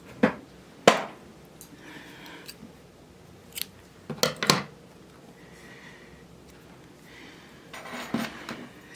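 Scissors snip off crochet yarn at the end of a strap, giving several sharp, close cuts in short clusters with quiet pauses between them.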